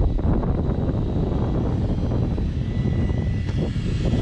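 A Hobao VTE 8S RC car's electric motor whines steadily and loudly, close by, for the whole stretch, mixed with rough wind buffeting and no pauses.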